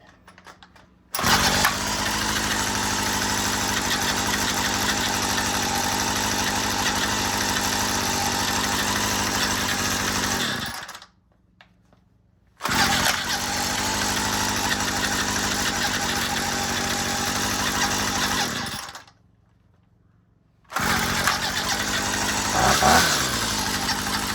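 A gas string trimmer engine runs smoothly after its carburetor high-speed screw is adjusted, revving in three long sustained bursts separated by brief drops to near silence, close and loud.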